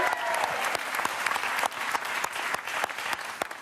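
A studio audience at a French television game show applauds in a steady, dense patter of many hands that holds at an even level throughout.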